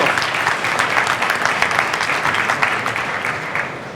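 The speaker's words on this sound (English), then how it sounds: "Big hand of applause." An audience at a startup pitch competition at a real estate expo gives a big hand after a presentation, with brisk, sustained clapping whose individual claps stand out, fairly close and loud, with no talk over it.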